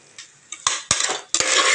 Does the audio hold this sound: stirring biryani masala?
yes